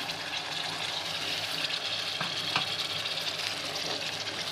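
Masala with tomatoes and salt frying in a pan, a continuous close sizzle with soft stirring and scraping noises and no voices.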